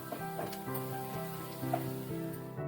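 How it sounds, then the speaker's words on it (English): Chopped onions frying in butter in a pan give a steady soft sizzle throughout, with faint clinks and stirring noises on top and no talking. "Fry until the onions turn translucent and start to turn brown."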